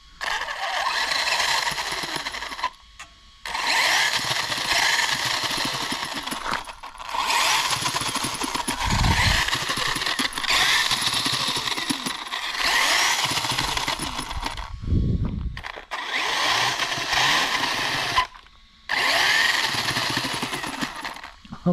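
A Kyosho FO-XX RC car with chain drive runs in repeated bursts, a loud buzzing electric whine with gaps of silence between runs and a low rumble rising midway, heard close.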